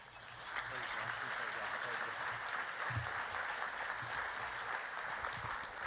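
Conference luncheon audience applauding steadily as Senator Peters is welcomed to the stage at a space research and development event, a dense sustained clapping that fills the whole stretch with no talk.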